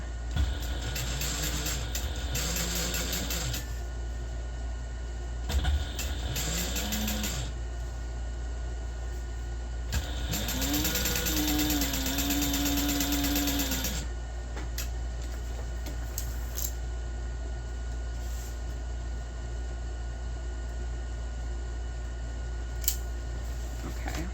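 A sewing machine stitches along the bottom of a reduced-size fabric backpack, its motor whirring in several bursts of a few seconds each with quieter pauses between, close and steady, no talking.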